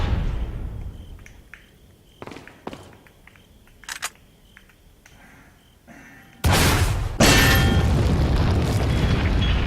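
Rocket launcher fire in Resident Evil 4 on PS4: scattered small pops and clicks give way to a massive, loud boom and a sustained roaring blast that carries on to the end.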